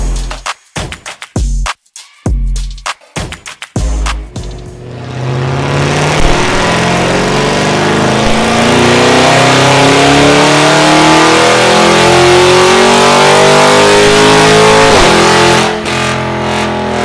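Range Rover with a stage 2 tune and titanium catback exhaust on a dyno: several short, loud revs with quiet gaps, then a steady, rising full-throttle roar that climbs in pitch for about ten seconds before easing off.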